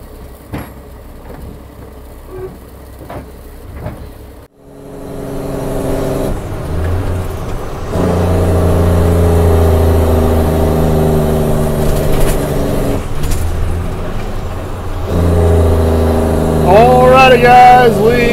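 A work truck that just unloaded a Volvo excavator off its trailer rolls along the road, a steady close engine drone with gear changes and rising revs, cabin rattles and no talk.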